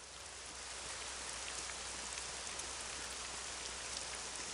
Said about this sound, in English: Look how loud this rain sound is.